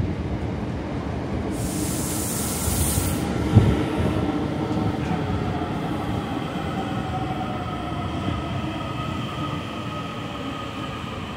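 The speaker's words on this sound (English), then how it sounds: "And the next train I shall be catching will take me to Grand Canal Dock. And hopefully this time it should be a DART service" A DART commuter train in Dublin rumbles steadily throughout, with a broad low roar of wheels on rails, a brief hissing burst near the start and a single clunk partway through, continuous and close.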